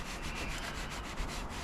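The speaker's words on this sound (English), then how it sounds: "I'm going to get a bit of sandpaper first, rough all this bit up here." Sandpaper rubbing back filler on a Rover 75's bodywork, a short steady scratchy scraping with rhythmic back-and-forth strokes, close and moderately loud.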